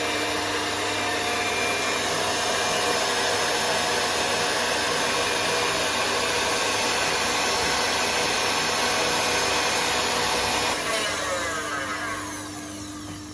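An electric whisk beats egg whites in a bowl for a soufflé, giving a loud, constant motor whir that runs unbroken and eases off slightly near the end.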